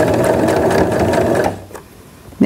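Sewing machine stitching pillow fabric near a corner, a short, close burst of rapid needle chatter that slows and stops, followed by a quiet pause and a soft handling sound.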